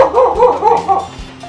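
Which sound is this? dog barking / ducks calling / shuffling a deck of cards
dog barking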